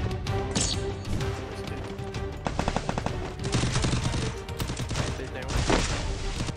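Rapid bursts of gunfire crackle over a busy Free Fire 4v4 match soundscape, with clusters of quick shots and a few heavier blasts, loud and close.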